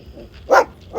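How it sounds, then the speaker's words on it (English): Two short, sharp barks from a dog chasing cyclists along a road in the Italian countryside, fairly close and set against a low background. "Just had our first encounter with dogs chasing us down the street"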